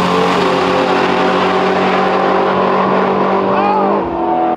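A Mustang drag races in a street grudge race, its engine revving hard in a loud, sustained roar with rising pitch as it pulls away, then cutting off sharply at the end; voices are heard over it.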